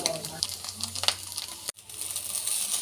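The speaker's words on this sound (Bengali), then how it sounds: "তার মধ্যে দিয়ে দিলাম বিট আর গাজর সেটাকে ভালো মতো এবার ভেজে নিচ্ছি" Beetroot and carrot fry in a pan with spices for masala chow mein, a steady close sizzle with stirring scrapes that briefly drops out before the hiss returns, with faint voice underneath.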